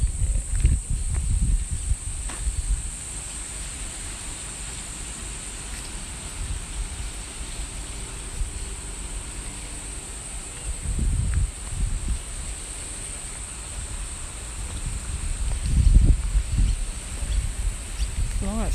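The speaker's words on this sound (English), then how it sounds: "It's very breezy now." Breeze moving through the many shady trees of an old heritage cemetery in South Brisbane, a soft steady rustle with gentle gusts swelling now and then, no talking.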